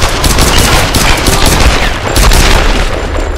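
Loud, continuous bursts of headshot gunfire in the Tomb Raider video game, overlapping cracks and thumps rolling on for several seconds without voices.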